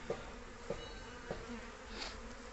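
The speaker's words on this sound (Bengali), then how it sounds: "সেই জায়গাটা এখনও দু চারটে মাছি উড়াউড়ি করছে" Continuous buzzing of a few bees flying around a tree branch, a steady hum close by with small clicks marking the start of each buzz.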